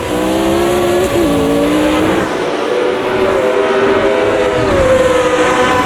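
Vintage Formula race cars in the Automobilista 2 sim racing game, a loud continuous engine drone with shifting revs and a rival McLaren close behind.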